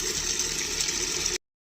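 Water running steadily into a container for laundry, a close, constant gushing pour like a tap filling a vessel, stopping abruptly.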